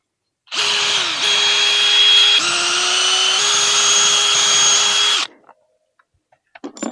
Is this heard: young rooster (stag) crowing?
no